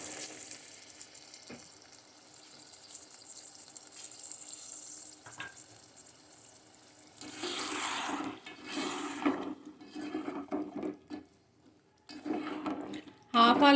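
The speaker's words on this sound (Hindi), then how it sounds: "अब इसमें हम थोड़ा सा पानी शामिल करेंगे ताकि आलू गल जाएं" Water is poured into a pan of fried potatoes being cooked for methi aloo, hissing and bubbling loudly in several bursts after a quiet stretch of low kitchen noise.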